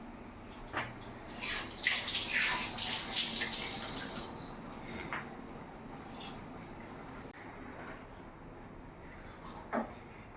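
A pot of vegetarian khichuri made with swarna rice and green chilies boils on the stove, bubbling and sputtering busily for a few seconds, then settling into softer, scattered pops, with no talk.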